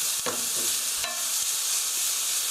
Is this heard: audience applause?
no